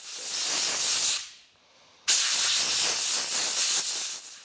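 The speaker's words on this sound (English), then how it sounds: "I'm going to grab a high pressure hose, get some of it blown out" A high-pressure air hose blows out the air filter of a 2005 Honda VTX 1800 motorcycle, a loud steady hiss that drops away briefly in the middle and then resumes just as strong, with no talking.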